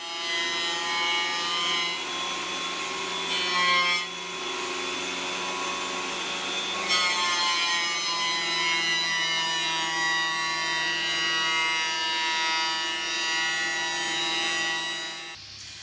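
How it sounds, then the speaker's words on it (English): A thicknesser planes a long board for a dining table top in the workshop, a loud sustained whining roar with strong harmonic tones that shift briefly around a few seconds in and later, running continuously throughout. "The opposite face was cleaned up using the thicknesser"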